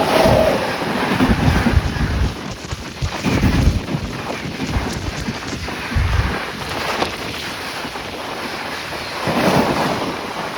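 A train hauled by a WAP7 locomotive with LHB coaches passes on the Secunderabad to Danapur route, a loud rushing roar with heavy low rumbling surges that swell and fade, heard without any voices.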